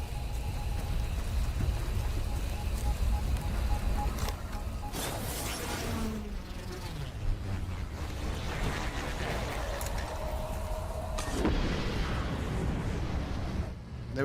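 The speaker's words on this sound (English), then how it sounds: "Just the rain on your helmet visor." Steady rain patters on a helmet visor close by in Destiny 2, a constant dense hiss with occasional heavier knocks and rumbles in the game mix.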